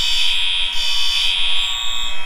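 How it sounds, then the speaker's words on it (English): Loud, continuous high-pitched electronic fire alarm tone in the Roblox game, droning steadily with a faint pulsing low beep underneath. "The fire alarm system is activated in this building."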